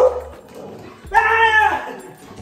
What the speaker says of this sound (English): We're about to take the dogs for a walk.